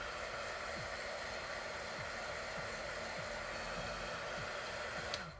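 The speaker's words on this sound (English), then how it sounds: "I use this craft gun because I am impatient and I don't want to wait for every layer of watercolor to dry." Craft heat gun blowing hot air to dry layers of watercolor paint on a painting, a steady close whooshing roar with a faint motor hum underneath, running continuously throughout.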